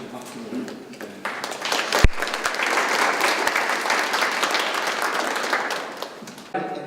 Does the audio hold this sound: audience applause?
yes